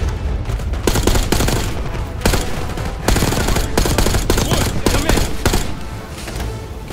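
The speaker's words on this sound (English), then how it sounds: "Give us some cover fire." Sustained automatic gunfire during a Call of Duty Black Ops 6 campaign mission, loud rapid bursts with sharp cracks repeating throughout, with occasional voices under the shooting.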